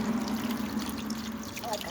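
Water poured into a container outdoors for a sink-or-float experiment, a steady trickling stream running continuously at close range, with a voice faintly present beneath.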